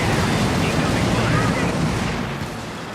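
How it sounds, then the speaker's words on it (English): Heavy strafing-run explosions in a combat video game, a dense roaring wall of blasts and rumbling fire that stays loud throughout and tapers slightly near the end. "The heavy strafing run was pretty effective there"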